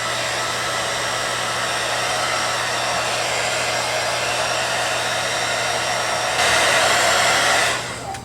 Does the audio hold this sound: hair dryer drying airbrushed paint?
yes